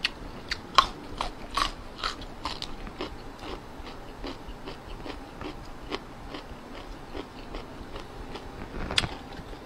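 Crisp, dry food crunched repeatedly while eating in a rural Isan kitchen setting, with sharp bites recurring every fraction of a second, close and fairly loud, and no talking.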